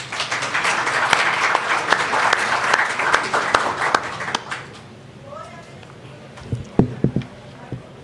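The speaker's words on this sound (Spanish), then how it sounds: "Un aplauso, por favor." Audience applause at a Spanish-language gathering as a performer is introduced, a loud crowd clapping that fades out after about five seconds, followed by a speaking voice.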